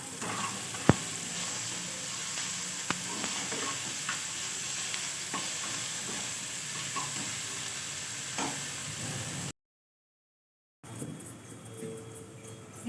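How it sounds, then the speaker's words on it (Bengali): Chopped tomatoes with turmeric and salt fry in a pan, giving a steady close sizzle with occasional faint stirring clicks, then a short silent break before the sizzle resumes more quietly. "টমেটো কুচি দিয়ে আমি ভেজে নিচ্ছি।"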